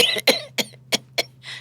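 A voice imitates the bronchospastic cough of RSV: five or six harsh cough bursts in a row, one after another with no pause to recover, followed by a softer breathy rasp at the end, close up with a steady low hum beneath.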